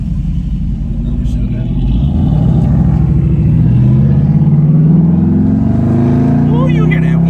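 Dodge Hellcat engine accelerating loudly from inside the car, its rising drone and supercharger whine climbing in pitch, with a passenger's voice over the engine.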